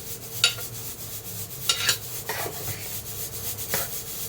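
A spoon stirs goat head curry in a pot, making a few separate scraping, rubbing strokes spaced a second or so apart over a low background hiss, with no talking.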